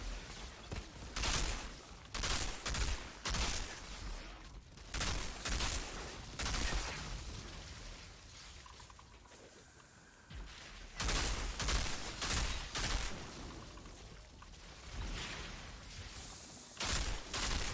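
Repeated bursts of assault rifle fire from the Hell's Rangers AR in the video game Outriders, coming in loud clustered volleys with short gaps and a quieter stretch in the middle.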